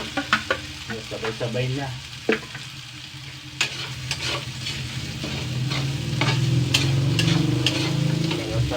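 Carrots and ham fry in a pan as a spoon stirs them, with sharp scrapes and clacks over a steady close sizzle that thickens toward the end, and a voice speaks briefly.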